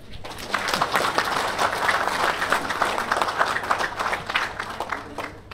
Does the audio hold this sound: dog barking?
no